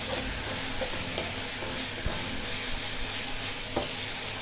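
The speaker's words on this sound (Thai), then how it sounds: "ผัดเนื้อให้หอมนะคะมุ้งเจ้าขา" Beef stir-fried with Thai chili curry paste in a hot pan, a loud steady sizzle with occasional scraping stirs and light clatter, close up.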